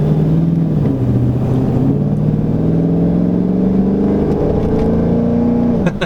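A 2014 Dodge Charger R/T V8 revs and pulls hard, its deep exhaust roar climbing in pitch before dropping sharply near the end.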